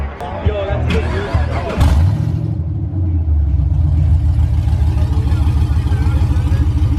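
A car engine rumbles low and steady nearby, with a brief rev early on, then settles into a throaty idle as the car pulls away from a Halloween car meet.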